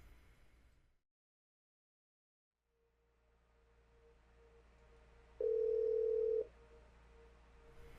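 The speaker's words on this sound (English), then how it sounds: "See the network busy rerouting message." A telephone call on an enterprise phone system: a short burst of noise, then silence, then a steady faint line tone and one loud, clean tonal beep of about a second, with no speech.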